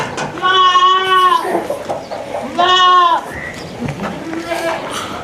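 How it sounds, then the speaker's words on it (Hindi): On a goat farm, a goat in heat bleats loudly and close by in three drawn-out, wavering calls, with low background sounds between them. "बकरी एक हीट पे आई हुई है जी,"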